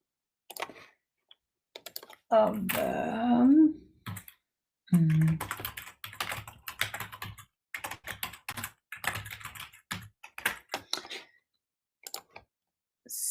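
Computer keyboard typing in quick irregular bursts of clicks and taps, fairly close and clear, with a brief murmur of low sound near the start.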